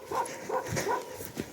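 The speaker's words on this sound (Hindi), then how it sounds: "एक कुत्ते की भौंक सुनाई दिया" A dog barks in the distance on a mountain trek to the Pindari glacier: a few faint, muffled barks over soft outdoor background noise.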